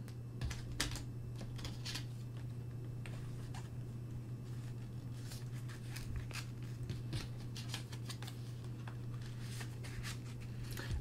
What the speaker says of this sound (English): I'm going to put some gift cards in here.